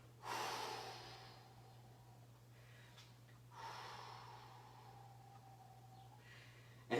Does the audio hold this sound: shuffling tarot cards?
no